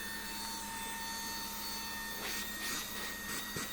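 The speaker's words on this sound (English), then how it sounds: "You got our power button to turn on the vacuum." A Lydsto handheld vacuum cleaner runs with a steady, even motor whine and airy rush, close by, joined near the end by some light scraping and rubbing.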